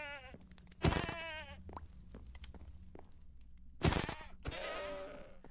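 Two sharp Minecraft goat bleats in the SkyFactory 5 modpack ring out a few seconds apart over quiet game sounds, with soft thuds in between.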